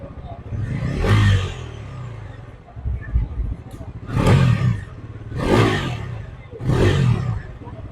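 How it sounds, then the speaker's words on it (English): A Bajaj Pulsar NS400Z with its 373cc engine and exhaust, revved in four loud, separate bursts that rise and fall with short settling gaps between them. "this is what this motorcycle sounds like"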